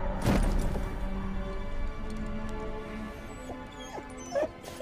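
A dog whimpers in a few short, high whines over a steady background hum in a film scene, moderately close, with no speech.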